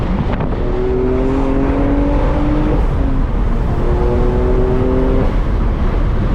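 BMW M3 F80 with a manual gearbox pulling hard through the gears on a highway, a loud sustained engine roar with rising tones broken by a brief dip at a shift, steady wind and road noise throughout.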